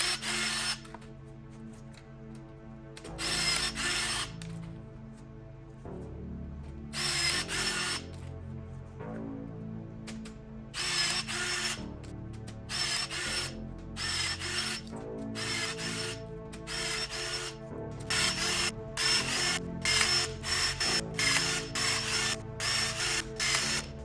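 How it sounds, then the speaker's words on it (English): Repeated bursts from a pneumatic rivet gun set the longeron on a RANS S-21 aircraft tailcone, short loud shots in irregular clusters separated by quiet pauses, close up with no talking. "rivet the other longeron in place"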